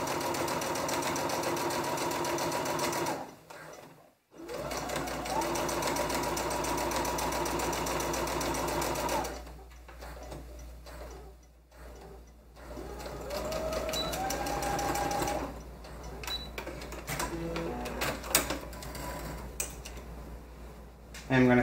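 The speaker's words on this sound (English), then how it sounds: "And I'm going to sew around the armhole." A sewing machine stitches a quarter-inch jumpsuit seam around the neckline and armhole. It runs in steady rapid bursts with short pauses, fairly close and moderately loud.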